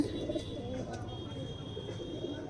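Andhra Madras pigeons murmur with continuous low coos close by in their loft, a thin steady tone and light speech faintly behind.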